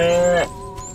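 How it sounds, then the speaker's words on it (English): A cartoonish cow from the Destroy All Humans! video game lets out a single loud, drawn-out moo that cuts off abruptly, followed by a faint low tail. "Again with the moo?"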